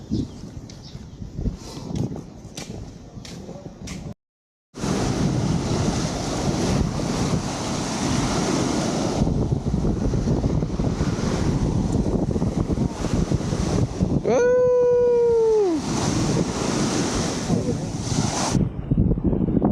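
Steady wind and surf roar on a beach at high tide, continuous and fairly loud, with a brief dropout early on, people talking in the background, and a rising whistle-like tone midway.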